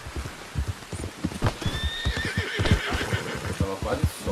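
Horse hooves clip-clop steadily in Red Dead Redemption 2, with a whinny rising mid-way over the rhythmic trotting; a voice is faintly audible underneath.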